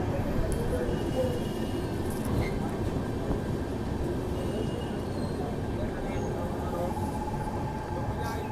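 The Marathwada Sampark Kranti Express runs through fog past Dholpur, giving a steady low rumble and rattle of wheels and carriages heard from on board, with a voice speaking over it.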